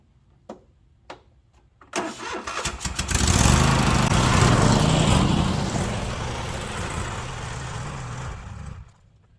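A lawn mower engine catches after a few sharp clicks and pulls, then runs loudly and steadily for several seconds before cutting off abruptly.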